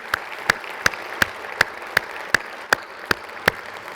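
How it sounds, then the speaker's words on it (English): An audience at an industry keynote session applauds the event staff: steady broadband clapping with a sharp, regular clap-like accent roughly every third of a second, with no voices. "give my staff a really good, big round of applause"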